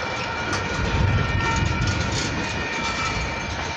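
A freight train rolls steadily past at close range, a continuous loud rumble with faint clickety-clack and a sustained high whine, no voices over it.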